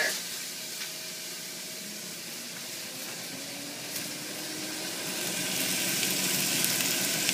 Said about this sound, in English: I'm going to saute these onions until they're tender.